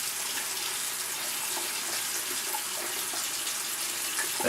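Cold water runs steadily from a tap in wintertime western Pennsylvania, a loud, even hiss of flow close by that swells slightly at the end.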